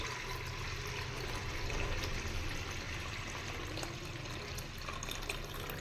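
Water pours steadily and continuously into a container of soaked idli batter ingredients, a constant splashing rush at close range with no voices.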